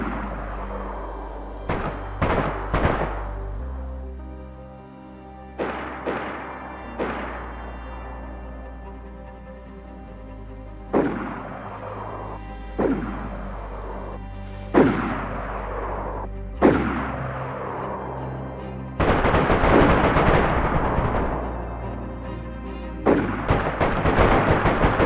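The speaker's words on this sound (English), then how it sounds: "A bunch of shots at the Bandit camp." Scattered gunshots and booming reports ring out at a bandit camp in the video game DayZ, a dozen or so separate cracks at irregular intervals, some sharp and near, others duller, with a dense burst near the end.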